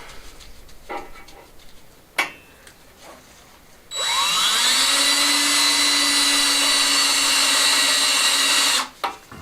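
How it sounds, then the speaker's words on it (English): A power drill with cutting fluid drills out metal parts in one loud, steady whine of about five seconds, close up, then stops abruptly. A few knocks and handling clicks come before it starts. "get these drilled out"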